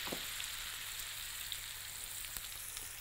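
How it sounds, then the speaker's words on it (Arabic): Onion and garlic fry lightly in butter, a soft, even crackling sizzle with a few faint pops throughout. "فاحط قطعه من الزبده وتعالوا نحمر كده خفيف البصله والثوم"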